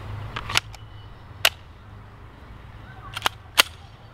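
A Glock 30 SF pistol fires at an outdoor shooting range, several sharp reports spaced irregularly, two of them close together, heard at a distance over a low background hum.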